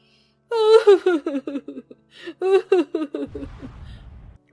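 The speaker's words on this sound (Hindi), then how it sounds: "उन्हें एक औरत की जोर जोर से रोने की आवाज आई" A woman in a cartoon story sobs and wails loudly in repeated gasping bursts, close and emotional, each cry breaking into shuddering whimpers, with a brief pause between two rounds.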